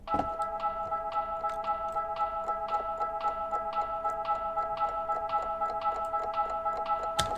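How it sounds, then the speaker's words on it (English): Steady, evenly spaced drum-like ticks paired with a clock tick over a sustained tonal drone in a film music score, the rhythm repeating regularly throughout with no speech. "it's like drum ticking sound, which is kind of cool,"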